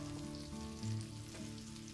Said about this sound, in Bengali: প্রথমে আমি চিকেনগুলোকে একটু ভেজে নেব